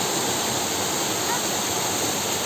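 Water rushing through forest at Ezharakund waterfall, a steady, dense broadband roar that holds constant and close throughout, with no other sounds standing out.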